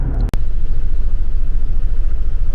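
A van drives along with a loud, constant low engine rumble and road drone, broken by one brief click or dropout near the start.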